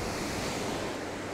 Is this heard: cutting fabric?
no